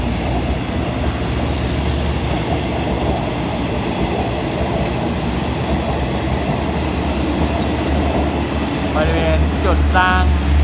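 A long train from Bangkok bound for Sungai Kolok rumbles steadily past up close, a loud continuous roar of wheels on rails, with a voice talking over it near the end.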